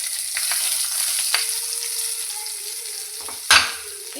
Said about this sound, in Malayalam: ഉഴുന്ന് മൂത്ത് വന്ന് നമുക്ക് ചെറിയുള്ളി ഇട്ട് കൊടുക്കാം.